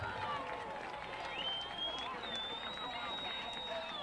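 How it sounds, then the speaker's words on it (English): Crowd noise from a high school football game, Manhattan versus Wichita Northwest in a sectional playoff, rises as steady, loud cheering and babble with scattered whistles and shouts throughout. "The crowd goes crazy."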